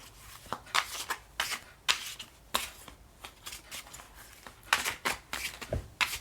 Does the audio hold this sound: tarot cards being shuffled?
yes